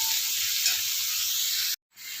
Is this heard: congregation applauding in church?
no